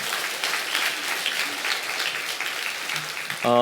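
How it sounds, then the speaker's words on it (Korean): A church congregation at a Sunday service claps for a pastor, a continuous moderate round of applause heard from within the room, ending as a voice starts to speak. "여러분 다시 한번 이동 목사님 박수 해주시기를 바랍니다"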